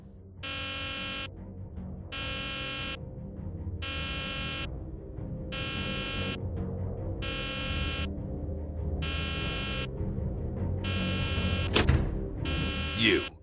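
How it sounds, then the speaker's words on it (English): A pulsing alarm sounds in the Nancy Drew game The Deadly Device, with loud buzzing bursts repeating about once a second, alone and steady for over ten seconds, with a brief sharp clatter near the end. "This was not what I expected when I set the alarm."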